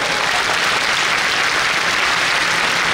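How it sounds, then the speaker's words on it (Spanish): Sustained audience applause at a Catholic talk on the family, a dense, steady wash of many hands clapping close and loud throughout, with no break. "Eso también se aplaude del Señor."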